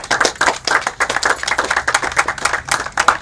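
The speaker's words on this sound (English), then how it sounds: "Let's give her a round of applause." An audience applauds the first female graduate of a lineman training program: dense, steady clapping from many hands, close and lively, filling the whole stretch with no talk.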